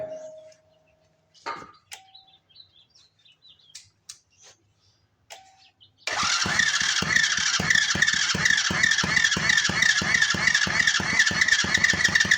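A 125cc Chinese go-kart engine, running off a jumper pack, barks to life partway through after a few quiet clicks and rattles, then revs hard and loud with a steady, rapid firing rhythm up close.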